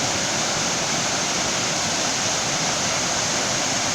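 Water rushes steadily down a burn, a dense, constant roar of flowing stream, close and loud throughout with no voices.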